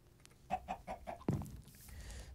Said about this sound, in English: The chicken is watching me sleep.